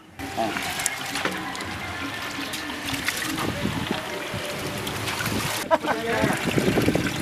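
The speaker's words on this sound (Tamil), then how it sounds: "இப்போ நம்ம அரிசியை களைஞ்சி எடுத்துக்க போகிறோம்." Rice is rinsed in water in a container, the water sloshing and trickling with wet splashing and swirling, close up, while a person talks over it.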